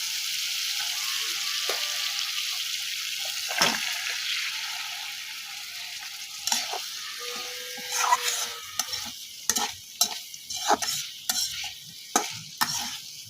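Pieces sizzle steadily in a spiced masala in a village kitchen, a soft continuous hiss that grows busier as a spoon starts scraping and stirring in quick, uneven strokes toward the end.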